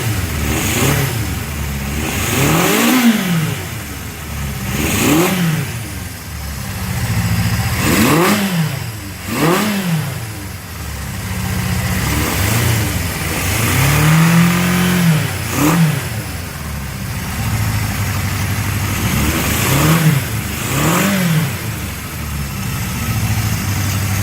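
Honda CB750F Super Sport motorcycle engine running after restoration, loud and close, with repeated throttle blips rising and falling over a steady idle, roughly every few seconds.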